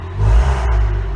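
A Maserati Ghibli engine in sport mode rumbles and revs briefly with a deep, steady growl, close and loud.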